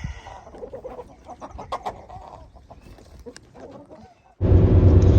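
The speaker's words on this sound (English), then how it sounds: "I get the hens and the roosters that I want for my breeding program for my Rhode Island Reds" Rhode Island Red hens and roosters cluck in a pen, with a busy stream of close, irregular clucks and calls that ends in a sudden burst of loud rushing noise.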